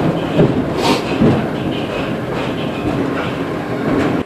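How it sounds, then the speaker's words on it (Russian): A city tram rolls along its tracks with a steady clickety-clack of wheels over rail joints. The rumble is loud and close, as if heard from inside the car, and no one talks. "Колеса стучат по рельсам,"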